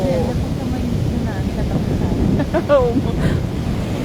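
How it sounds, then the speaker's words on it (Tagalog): Ocean waves and wind at a beach resort shoreline, a constant rushing surf roar with heavy wind buffeting the microphone. People talk faintly in the background. "Ayan, ang dagat ngayon dito."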